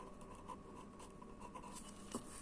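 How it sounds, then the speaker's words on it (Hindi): Marker or chalk writing on a board during a talk on west-facing house layout, a soft continuous scratchy stroking with a few brief squeaks, fairly quiet and close, no voices. "यहाँ पे मैं वेस्ट लिख देता हूँ"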